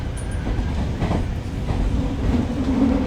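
A Japanese subway train rides along with a steady low rumble and rhythmic rail clatter, heard loudly from inside the car with no one talking.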